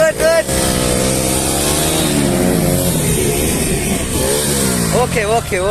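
A motorcycle engine revs at full RPM, a loud sustained whine that climbs and wavers in pitch, with people talking briefly at the start and end.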